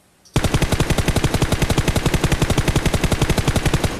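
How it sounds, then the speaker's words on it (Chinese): Rapid automatic gunfire from the video game PUBG bursts in loud and close after a brief quiet start, then rattles on in an even stream of shots for several seconds. "看到开枪了吗？"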